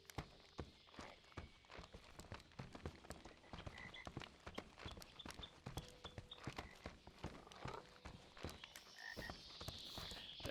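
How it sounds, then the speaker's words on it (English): Frogs croaking in the video game Inspector Schmidt - A Bavarian Tale, a dense chorus of rapid, clicking croaks repeating steadily near and far with no talk. "Sounds from the frogs."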